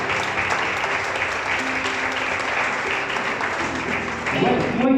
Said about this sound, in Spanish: también un fuerte aplauso a estas madres esforzadas,